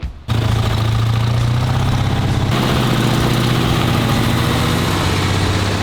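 A three-wheel locksmith service van's engine idles steadily and close by, a low rumbling drone with a faint knocking pulse that starts abruptly and runs unbroken to the end.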